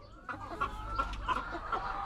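A formerly lame backyard laying hen clucks in a quick series of short, close calls over a low background hum.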